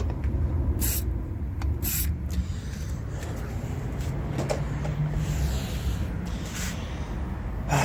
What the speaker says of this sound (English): I'm going to spray some more stuff into there